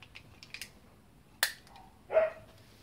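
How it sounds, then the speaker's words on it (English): A single sharp dog bark, then a second bark with a short whine, against a quiet room with faint clicks; moderately close. "Now the dog's started barking."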